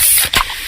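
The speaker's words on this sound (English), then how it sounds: "that's the sound of a freshly opened fizz-filled Pepsi" A can of Pepsi cola cracks open with a loud, close, sharp hiss that settles into a steady carbonated fizz, with no voices.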